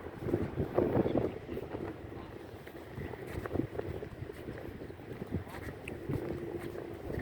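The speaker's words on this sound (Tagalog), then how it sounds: "ang sarap ng hangin" Steady wind rushing and buffeting outdoors, a constant broadband roar with gusty swells and rumbling microphone noise, and faint voices now and then underneath.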